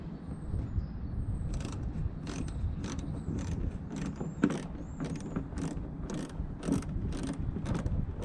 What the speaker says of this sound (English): So these are 8mm bolts holding the lamp in. So I'll get those out now.